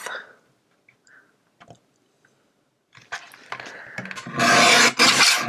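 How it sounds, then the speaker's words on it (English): Background paper for a handmade card being cut on a paper trimmer, with quiet taps and small clicks at first, then a loud rasping slide of the blade in the last seconds, very close. "I will start by cutting the background paper."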